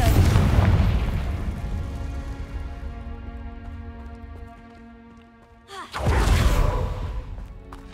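Bombarda and Confringo spell explosions in the video game Hogwarts Legacy: a heavy booming blast that rings out and fades over several seconds, then a second loud impact.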